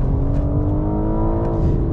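A heavy 1800-kilo BMW xDrive with a dual-clutch gearbox accelerating flat out in first gear, a loud, sustained engine roar rising steadily in pitch, close and continuous with no talk.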